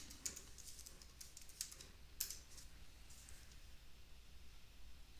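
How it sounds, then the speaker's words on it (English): Quiet taps on a computer keyboard while a password is typed, a few sharp isolated clicks over a soft background hiss, with no talking. "Then you can type in your password."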